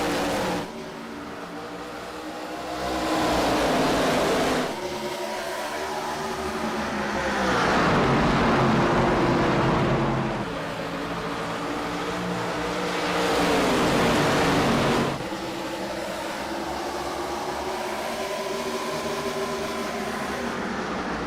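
Simulated ARCA Series race cars at Phoenix roar off together on a green-flag restart, a dense, loud engine drone swelling in repeated revving waves as the pack accelerates past, with no voices.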